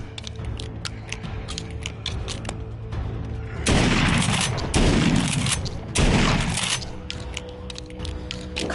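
Shotgun blasts in a zombie VR shooter, three loud broad booms spaced about a second apart, preceded by clicking and mechanical handling sounds.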